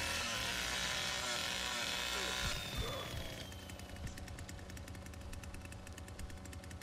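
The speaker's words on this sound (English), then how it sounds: "revving up the chainsaw" A chainsaw revs in the Texas Chainsaw Massacre video game, with loud, steady mechanical roaring that shifts to a rapid, sputtering rhythmic idle partway through.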